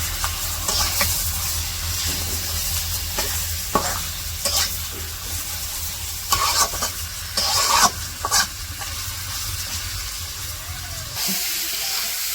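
Fish oil and fish gills are stir-fried in a pan, a continuous hissing sizzle close by, punctuated by bursts of scraping and clattering stirring before the frying quiets near the end.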